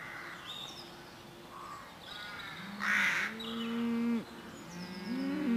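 Cattle low in long, drawn-out moos over a quiet outdoor Cotswolds background, with a crow cawing loudly in the middle and faint birdsong around.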